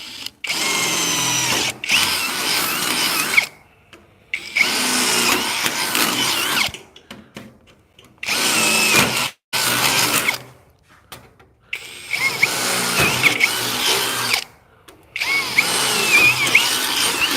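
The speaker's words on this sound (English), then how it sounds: "this is the wrong size drill bit needing the right size hole trick" A power drill whirs loudly in repeated bursts, starting and stopping several times with brief silent gaps between runs, close up.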